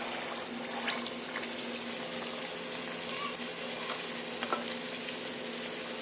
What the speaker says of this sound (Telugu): ఇప్పుడు మనము ఇది డీప్ ఫ్రై చేసేసుకుందాము లాలీపప్స్, చికెన్ లాలీపప్స్.